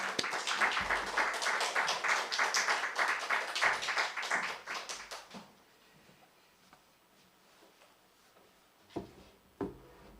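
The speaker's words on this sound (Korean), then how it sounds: "환영하며 박수로 모시겠습니다" Korean church congregation clapping to welcome a preacher at an early-morning Holy Week service, a loud burst of many hands that fades out after about five seconds, leaving quiet room sound and a couple of soft knocks.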